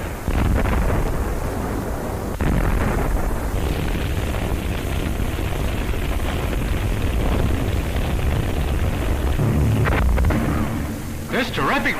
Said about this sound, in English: This terrific bombardment continued for days